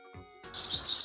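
A swallow chirps in a short series of bright, high calls that rise in level after a brief quiet start, close and clear with no talk.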